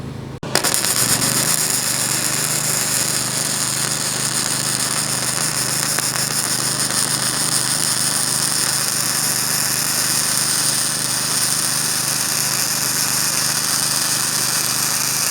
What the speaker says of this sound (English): because I'm using gasless MIG, I don't have to worry about slag at all